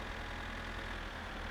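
A tractor engine idles steadily in the game My Summer Car, a continuous low rumbling drone at constant level with no talk over it.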